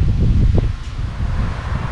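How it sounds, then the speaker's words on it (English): Strong gusty wind at Hookipa, Maui, buffeting the microphone, a loud low roar that surges and eases over a couple of seconds. "It's really windy"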